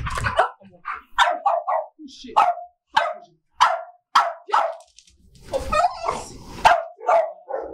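Dogs, among them a Malinois, bark close by in sharp, repeated bursts with short yips and whimpers between them, ending in a flurry of overlapping barks and scuffling.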